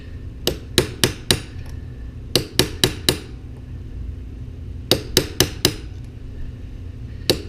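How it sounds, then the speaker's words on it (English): A hammer striking a metal punch to flatten a flare on a bicycle part, sharp ringing taps in quick groups of four, a pause, then another group and one last tap. "grab a punch and just kind of flatten her out here."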